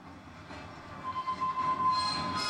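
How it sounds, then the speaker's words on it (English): Rumbling train wheels clack along the rails with a thin, high metallic squeal riding over the top, steady and moderately close, as background in a hip-hop song. "He has the train sounds in the background"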